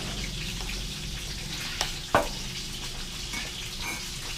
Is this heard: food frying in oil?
yes